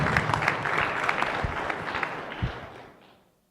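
Audience at the close of a live-streamed talk gives a round of applause, crisp claps with a few louder hits, fading away over the last second.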